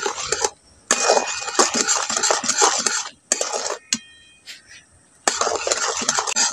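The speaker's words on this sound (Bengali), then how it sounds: "এইভাবে নাড়াচাড়া করে একটু ভালো করে ফুটিয়ে গাঢ় করে নেব" Melted sugar syrup being stirred in a pan for lychee candy, with a utensil scraping and clinking against the metal in close, busy bursts, broken by brief pauses and a few sharp taps.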